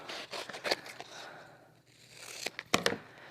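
Quiet snipping and crinkling of stiff plastic-coated paper, a few short cuts and rustles close by with pauses between.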